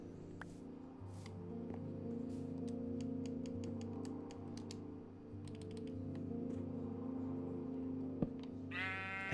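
A sheep in the Minecraft video game gives one short bleat near the end, over steady computer keyboard typing and low background music.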